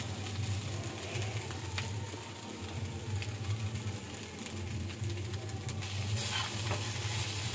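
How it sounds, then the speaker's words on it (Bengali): Fried rice sizzles and crackles in a pan while it is stirred, giving a continuous close hiss with scraping, clicking stirs scattered throughout. "কি রান্না হচ্ছে বলতে? ভাত ভাজা।"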